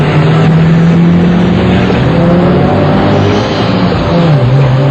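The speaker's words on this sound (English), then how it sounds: "2 cars line up head-to-head. The flagger, or starter, drops his arms, and the race is on." Loud, continuous engine roar from two street-racing cars launching side by side in a Toronto drag race, the engine pitch climbing steadily as they accelerate.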